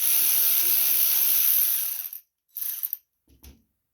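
A wrench working a 7/16 nut off the starter wire of a John Deere LA105 riding lawn mower, a close steady metallic ratcheting whir lasting about two seconds, then two short bursts of clicking and a soft clunk.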